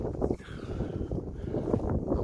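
Breeze gusts across open moorland on Stanton Moor, a low rushing buffet against the microphone, short and fairly loud.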